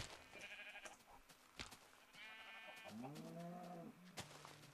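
Several sheep bleat in the video game Minecraft, a few wavering calls in a row, fairly close and clear over soft game background sounds.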